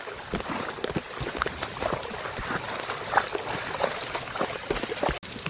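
Knee-deep rainwater floods a village street during ongoing rain, making a steady, close churning and trickling wash with faint splashes and no voices.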